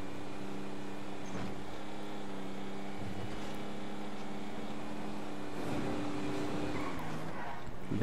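Cars driving in the game GTA Online during a bounty hunt: a steady engine drone with tonal whine runs throughout, swelling slightly near the end, loud and continuous with no talk over it.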